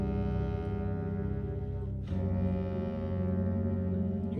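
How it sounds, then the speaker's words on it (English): An air horn going off in the Blue Prince video game, one long, loud, deep blaring tone that breaks briefly about halfway and then resumes, steady and alone with no talk. "Air horn go off"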